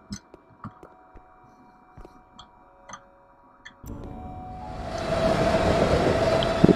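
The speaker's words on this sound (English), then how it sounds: "We're on some kind of subway." Subway train in the horror game When the Darkness Comes: sparse ticks and clicks give way to a loud, broad rumble that swells and holds steady, with a faint high whine riding over it.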